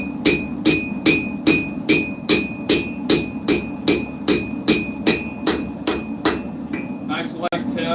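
Rapid, regular light hammer taps on a thin blade edge at a forge, about sixteen evenly spaced metallic strikes with a bright ringing tone over a low background hum, close and fairly loud.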